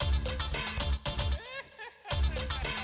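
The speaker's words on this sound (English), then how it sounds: "In Japan, Sonic CD's boss theme sounds like this." Energetic boss music from the Japanese Sonic CD soundtrack, with pounding low beats and busy bright synth lines, briefly thinning out before the full beat returns.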